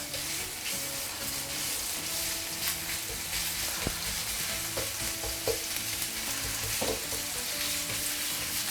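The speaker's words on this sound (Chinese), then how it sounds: "直接下入这个2块牛肉末，开这种中小火，慢慢去把它炒散" Minced beef stir-fried in a little oil in a non-stick pan over medium-low heat, a continuous close sizzle broken by light scrapes and taps of the spatula.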